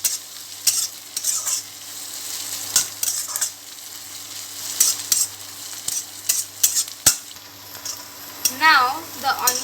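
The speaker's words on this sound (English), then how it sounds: "I will fry the onions till they change their color a bit." Chopped onions fry in a pan with a steady close sizzle, broken by repeated scraping strokes of a stirring utensil against the pan.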